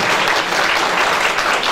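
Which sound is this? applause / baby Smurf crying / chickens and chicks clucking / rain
applause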